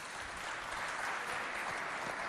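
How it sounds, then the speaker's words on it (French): Dense, quiet applause from a student audience at a high-school competition show in Côte d'Ivoire, an even wash of clapping with no voices. "Applaudissez pour vous si vous êtes bien chaud."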